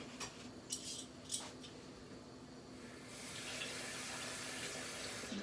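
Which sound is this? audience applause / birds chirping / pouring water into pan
pouring water into pan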